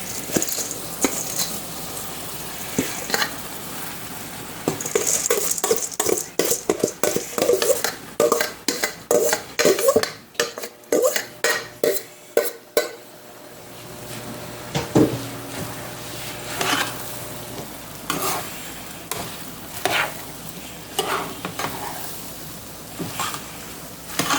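Rice goes into a pot of pork rib stew with vegetables, with a low sizzle throughout and a quick run of sharp scraping stirs and knocks against the pot in the middle.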